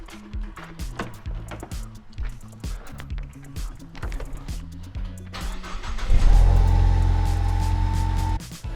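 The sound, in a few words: Ford Mustang EcoBoost engine starting and running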